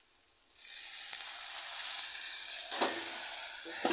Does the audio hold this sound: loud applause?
no